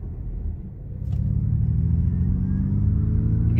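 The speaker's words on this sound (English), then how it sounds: "You can hear that propulsion sound right now." Ford Mustang Mach-E electric SUV in unbridled drive mode, producing a steady synthetic propulsion hum that swells and rises in pitch as the car accelerates, heard close from inside the cabin with road rumble beneath.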